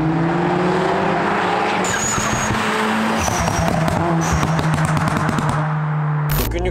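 Tuned VW Golf 6 R, Stage 2+ at roughly 365-370 HP with popcorn exhaust software, revving hard with rising engine tones and sharp pops and crackles, loud and close, with no speech.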